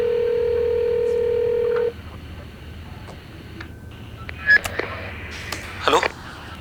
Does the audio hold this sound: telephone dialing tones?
yes